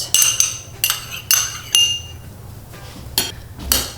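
Peppers, onions, chili powder, oil and minced garlic tossed in a bowl for slow cooker stuffed peppers, giving several sharp clinks and scrapes of utensils against the dish in irregular bursts, close and fairly loud, with no talking.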